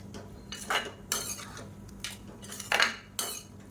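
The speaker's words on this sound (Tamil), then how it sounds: "நல்லா கிளறி விட்டுக்கலாம்" A spoon stirs soya chunks and egg fry in a pan over high heat, making a handful of quiet metallic scrapes and clinks in uneven strokes, with no voices.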